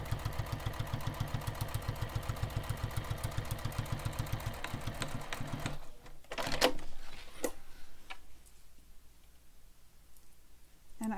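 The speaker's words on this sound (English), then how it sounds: "stitch, pivot, and go back down the other side, stitching right on top of my previous stitches" Sewing machine stitching backpack fabric, running in a steady rapid mechanical rhythm for several seconds, then stopping, followed by scattered clicks and handling noises.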